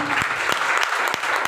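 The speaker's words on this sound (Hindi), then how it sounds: "एक बार जोरदार तालियां होनी चाहिए" An audience claps steadily throughout, a dense burst of applause with a few sharper claps standing out.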